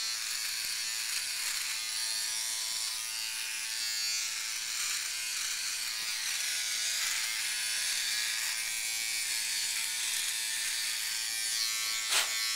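An electric shaver runs continuously during a dry shave, making a steady high buzzing drone at close range with slight variations as it moves, and no talking.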